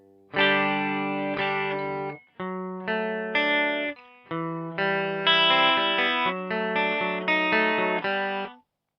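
Electric guitar strums verse chords through chorus and distortion effects, a steady rhythmic pattern of ringing strums with brief gaps between changes, starting on G.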